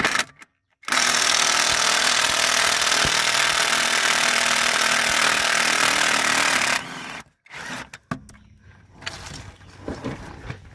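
A power tool, likely an impact driver, removes 15mm engine mount bolts on a 2010 Chevy Colorado drag truck during an LS swap: one long, loud, steady close-up run of about six seconds, then short bursts and clatter.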